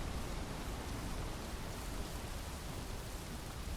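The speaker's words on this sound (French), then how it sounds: "Après il pleut, ça couvre un peu les bruits on va dire" Steady rain hiss from the video game The Isle, a dense even wash of falling drops with no pauses, fairly quiet and unbroken throughout, with no voices.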